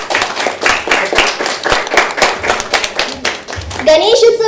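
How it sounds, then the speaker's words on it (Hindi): An audience at a Ganesh festival dance competition finale claps in a quick, rhythmic burst, loud and close, with voices speaking through it. "तो ये कंपटीशन शुरू करने के पहले एक बार जोरदार तालियां खुद ही के लिए बजा दीजिए।"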